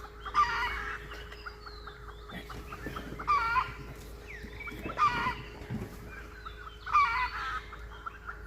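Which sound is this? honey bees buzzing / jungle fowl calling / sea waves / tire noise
jungle fowl calling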